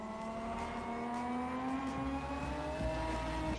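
A tuned car in the Night Runners racing game screams at top speed, its engine note held high and rising slightly in a loud, continuous whine with no break.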